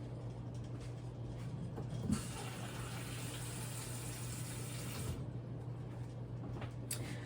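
Water running into a steamer pot, filling it about halfway, heard as a broad steady rushing that starts a couple of seconds in and stops after about three seconds, over a low background hum.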